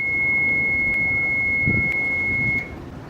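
A continuous steady alarm tone from a boat engine panel sounds while the power button is held, running for about two and a half seconds, with short pulses about once a second over engine rumble, then cutting off.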